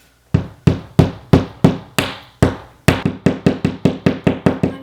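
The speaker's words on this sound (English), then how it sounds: "and hammer it in" Repeated sharp hammer blows driving a drywall anchor into a wall, slow and spaced at first, then a quicker steady series of taps, close and loud with no talking.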